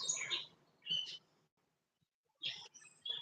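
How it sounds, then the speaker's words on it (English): Bright, high chirping bird calls in short bursts, with a quiet pause in the middle before the twittering resumes. "Listening to the birds for the last time tonight before they stop singing these songs."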